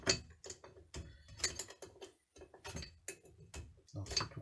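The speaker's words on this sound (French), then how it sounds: "Je vais desserrer deux écrous." Two nuts being loosened on an MRC 100cc engine, with a wrench ratcheting in short metallic bursts of clicks and clinks separated by brief pauses, close up and fairly quiet.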